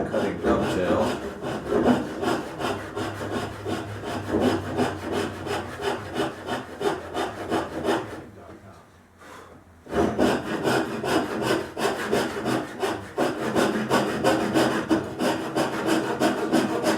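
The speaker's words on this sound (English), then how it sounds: "I decided to cut them out with a handsaw" Handsaw cutting wood for the knuckle joint of a Townsend card table, rapid rhythmic back-and-forth rasping strokes up close, pausing briefly midway before resuming steadily.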